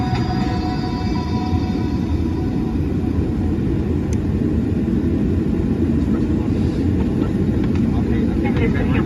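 Inside a Delta airliner cabin at takeoff, a loud, constant low rumble and roar of the engines fills the space, steady throughout with no clear talk.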